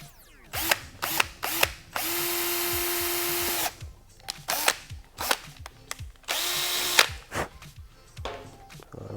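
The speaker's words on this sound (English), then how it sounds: "I'm going to start drilling it." A power drill bores a hole in the plastic undertail of a 2015+ Yamaha YZF-R3 during a fender eliminator install, with two sustained whirring bursts between ratcheting clicks and handling noises, close and fairly loud.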